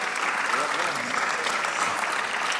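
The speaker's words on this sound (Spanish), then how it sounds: "No te canses de aplaudirlo, porque Él ha sido bueno." A church congregation claps together, a thick continuous wash of hands applauding at close range with a voice faintly present beneath the clapping.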